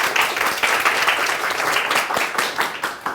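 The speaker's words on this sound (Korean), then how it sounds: "자, 박수!" Sustained applause from a high school classroom after a student's presentation, dense steady clapping from many hands lasting the whole stretch, fairly loud and close, with a faint voice underneath.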